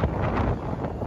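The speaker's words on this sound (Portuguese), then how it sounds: "olha a rajada de vento que tem só por causa do corredor, do apartamento" Gusty wind blowing through an apartment building corridor in Balneário Camboriú, a steady close roar of buffeting air on the microphone for the whole moment.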